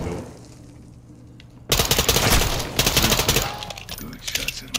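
Gunshots ring out in Call of Duty Modern Warfare 2, a short stretch of quiet broken by a sudden loud volley of rapid shots that keeps going in bursts to the end, with some voices under the fire.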